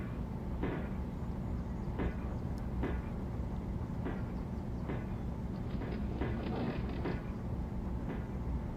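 A Sacramento Northern electric train runs in Train Simulator, a steady low rumble under a series of evenly spaced clicks and creaks from wheels and couplings, continuous and close, with no talking.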